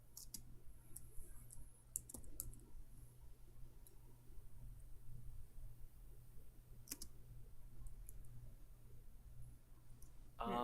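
Quiet, scattered clicks of computer keys typed in short bursts, with a few sharper isolated taps, over a low steady hum in a quiet room.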